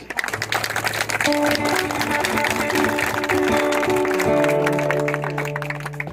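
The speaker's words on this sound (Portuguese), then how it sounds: "Vamos aplaudir Jesus." A congregation at a Mass held in a private home applauds, steady dense clapping all the way through, with sustained organ or keyboard tones playing alongside.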